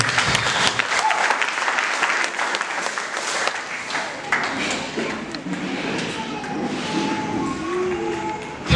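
A congregation applauding at a worship gathering: loud, sustained clapping from many hands that fades into quieter scattered claps, with voices mixed in.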